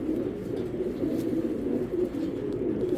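Imported racing pigeons coo in low, steady murmurs close by, one throaty call running into the next with no talking over them.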